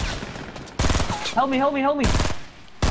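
Rapid bursts of video-game gunfire from Fortnite crack loud and close in a Battle Royale match, with a long stretch of firing broken by a pause where a voice speaks over the game sounds.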